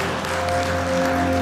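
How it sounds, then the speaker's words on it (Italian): Brief burst of audience applause at an underwater photography awards evening, a steady wash of clapping from a crowd held at even volume for a second and a half. "direi che è un applauso meritato"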